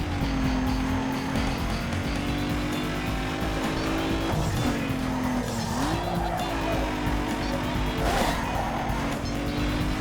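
A Ford Mustang SN95 in Need for Speed Underground 2 drives hard, its engine holding a steady drone that dips and rises with shifts while tires squeal and skid in loud bursts.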